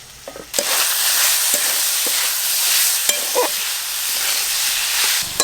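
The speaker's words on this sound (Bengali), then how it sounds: "চিকেন খুব ভালোভাবে সেদ্ধ হয়ে গেছে আর সমস্ত মশলার সঙ্গে কষা হয়ে গেছে" Chicken frying with spices in a pan for Mughlai paratha, a loud continuous sizzle that starts abruptly and holds steady, with occasional scraping stirs and clinks over it.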